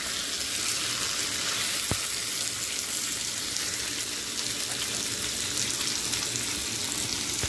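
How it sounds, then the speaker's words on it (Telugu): Dried red chillies fry in hot oil in a pan, a dense, steady hiss and crackle of sizzling that runs unbroken and close, with one brief sharp tap partway through. "ఎండుమిరపకాయలు అయితే ఎంత మంచిగా ఫ్రై అయినాయి చూడండి, ఒకటి తర్వాత ఒకటి మంచిగా ఫ్రై అయిపోతున్నాయి."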